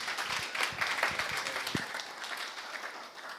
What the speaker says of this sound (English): So big round of applause for the last demo of the evening